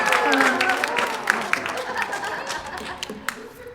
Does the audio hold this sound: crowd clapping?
yes